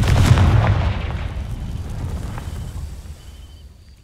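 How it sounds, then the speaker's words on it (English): A Confringo fire spell from Hogwarts Legacy bursts against dry vines, a loud booming blast at the start that rumbles and crackles on as a fading burn for several seconds, with no voices. "These dry vines are one spark away from becoming kindling. Confringo!"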